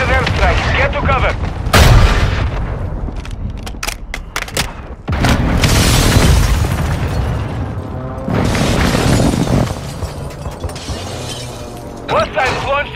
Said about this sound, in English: Hostiles launch the mortar strike.